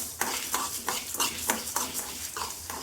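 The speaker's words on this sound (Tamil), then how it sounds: "ஜீரகம் போட்டுக்கலாங்க. மிளகு போட்டுக்கலாங்க. வரமிளகா 4 போட்டுக்கலாங்க. இது நல்லா வறுத்துக்கலாங்க." Cumin, black pepper and four dried red chillies dry-roasting in a pan for a fish curry spice mix, with a spoon scraping and stirring in a steady rhythm of light rattling strokes, close and moderately loud, with no talk.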